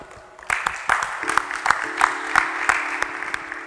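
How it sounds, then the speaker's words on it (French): A church congregation breaks into applause that swells after a brief pause, with sharp claps and a sustained crowd-like roar of acclamation, while voices call out over it. "Nous acclamons notre Dieu qui nous a exaucés."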